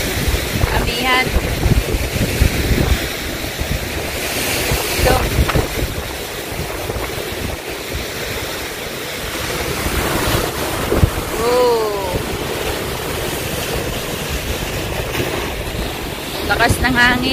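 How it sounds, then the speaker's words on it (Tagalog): Strong wind buffets the microphone by the sea during the northeast monsoon, a loud rushing roar with surf underneath, and voices speak briefly over the gusts. "Lakas ng hangin."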